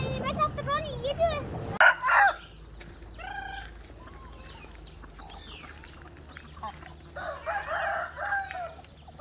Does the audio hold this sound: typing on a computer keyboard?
no